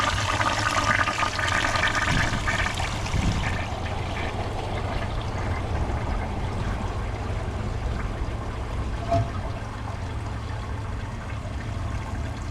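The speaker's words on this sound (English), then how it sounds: "let's hold down the handle and use all the water in the tank" A 2025 Kohler Highline Arc tall-tank toilet flushes with the handle held down, a loud rush of water that settles into steady swirling and trickling as the bowl drains and refills.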